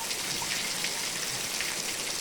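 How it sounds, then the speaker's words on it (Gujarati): A brief stretch of heavy, steady unseasonal rain around Diwali pattering on surfaces with a continuous hiss, nearby and unbroken. "આ 4-5 દિવસથી વરસાદ ચાલુ છે એક ધારો સખત."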